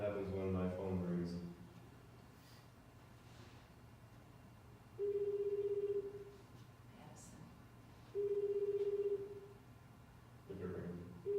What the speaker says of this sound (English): now watch what happens when my phone rings